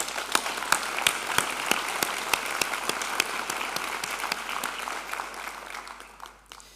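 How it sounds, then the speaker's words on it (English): Crowd applause fills a university graduation ceremony, a dense, sustained roar of many hands clapping with sharp individual claps standing out, steady for several seconds before thinning and fading at the end. "they do deserve a thunderous applause"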